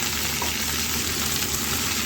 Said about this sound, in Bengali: এবার দিয়ে দেবো বাঁধাকপি আর ফুলকপি, এগুলো একটু ভেজে নেব